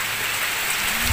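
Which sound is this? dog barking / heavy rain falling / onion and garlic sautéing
heavy rain falling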